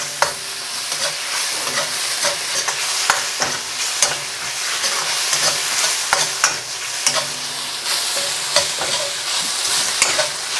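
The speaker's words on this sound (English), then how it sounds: "So once it's done that, then we can start to toss it in our wok" Beef strips for salt and chilli beef stir-fry in a wok with a loud, continuous sizzle, punctuated by frequent rhythmic tosses and metallic scrapes throughout.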